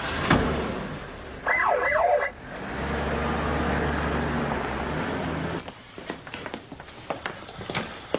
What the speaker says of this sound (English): Can I do the siren?